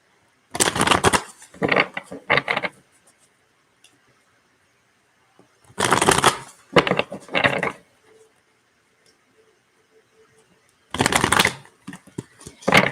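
Tarot cards shuffled by hand in three separate bursts of riffling, close and fairly loud, with near silence between them and no talk.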